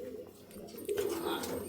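Pigeons coo inside a breeding cage, a low rolling warble that swells louder partway through the clip and keeps going over faint background noise.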